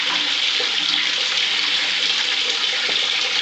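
Water for a baby's warm bath runs and splashes in a steady, bright, continuous wash. It sounds close and fairly loud, with no voices.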